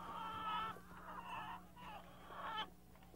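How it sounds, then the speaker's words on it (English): Chickens clucking outdoors, several birds calling in repeated bursts at moderate distance, with a steady low hum underneath. "There's a bunch of chickens outside."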